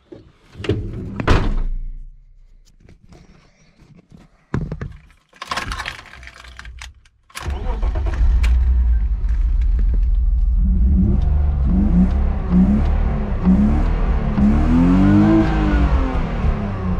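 A BMW E36 325i for a test drive: a few sharp door thumps and clicks, then the inline engine cranks and catches loud and close, settling into a steady rumble with revving swells, no talk.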